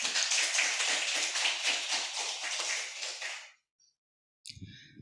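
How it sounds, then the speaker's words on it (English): An audience claps at the opening ceremony of the SICBAS 2021 conference: dense, even applause for about three and a half seconds, then it stops abruptly and a brief, unclear sound follows. "Give applause."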